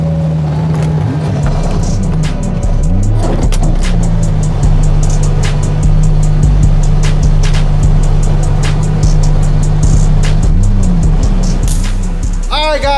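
A 1500hp Toyota Supra drives hard, its loud engine droning and rising through the revs with several sharp gear changes breaking the roar, heard from inside the car.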